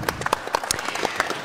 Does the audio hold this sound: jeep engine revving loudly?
no